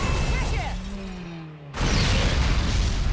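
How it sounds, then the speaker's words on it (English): An explosion goes off in the action game Bayonetta: a loud, full-spectrum blast bursts in at once and roars on as sustained rumbling debris, following a quieter stretch with a descending tonal whine. "I'm sure Luka survived that explosion too."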